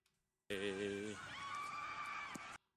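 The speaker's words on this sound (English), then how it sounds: "Listen to these screams." Screams added to a creepy video, one sustained loud shrieking wail lasting about two seconds with a wavering pitch, alone and close.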